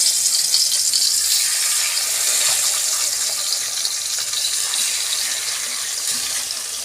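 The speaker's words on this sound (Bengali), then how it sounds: "আমি আর 3টে মাছ ভেজে দিচ্ছি এইভাবে" Pabda fish frying in oil in a pan gives a steady, loud, close hiss of bright sizzling crackle that holds evenly for the whole stretch, with no voices over it.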